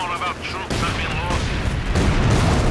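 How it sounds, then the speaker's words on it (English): A light artillery barrage in Company of Heroes 2 pounds a pair of anti-tank guns, with a steady run of booming explosions and crackling gunfire that swells louder near the end, while a voice speaks in the background. "We've got the light artillery barrage dropped on these double AT guns"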